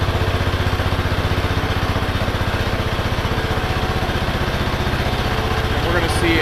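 An Earth & Turf 65PT topdresser running with its conveyor belt lacing moving backwards, a loud, steady rhythmic engine-like chug with fast regular ticking throughout, close to the listener, with a voice faintly under it.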